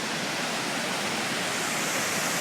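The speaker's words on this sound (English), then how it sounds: "High up, but look at that waterfall." A high waterfall beside the Myrdal railway line gives a steady, dense roar of falling water, continuous and fairly close, with nothing else heard over it.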